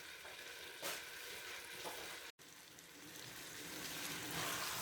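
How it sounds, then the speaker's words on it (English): Shakshuka tomato sauce simmering over medium heat in a frying pan, a soft, quiet bubbling sizzle with faint crackles, steady apart from a brief dropout midway, and no voices. "The shakshuka is cooking away, medium heat."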